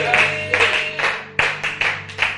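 A church congregation at a Sunday service claps in loose bursts of acclamation, a handful of distinct, irregular hand claps over a faint hum, close and fairly loud.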